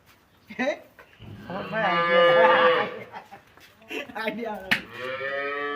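Cattle at a livestock market moo loudly and repeatedly, long drawn-out lowing calls close by, with traders talking and market chatter around them.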